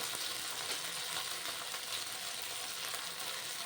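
Ginger paste fries in a pan for a dhaba-style palak paneer, giving a steady, soft, hissing sizzle that stays close and even throughout, with no talk.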